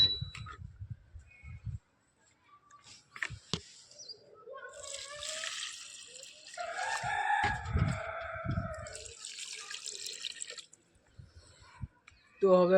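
A rooster crows at moderate distance in a drawn-out call, following water being poured and dripping onto plants, with a few short sounds scattered around it.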